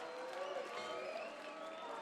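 A crowd at a fight in the ballroom of the Commerce Casino roars and cheers in a steady, sustained wash of noise that sounds somewhat distant and muffled.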